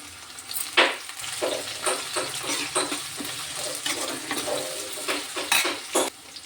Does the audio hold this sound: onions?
yes